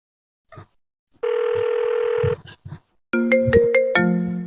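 A phone call is being placed, with short electronic beeps followed by a steady synthetic ringing tone that repeats and shifts pitch, close and clear against near silence.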